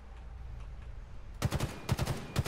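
A full-auto gun fires in Halo Infinite with three quick, close, punchy bursts of rapid shots following a quiet stretch of low background ambience.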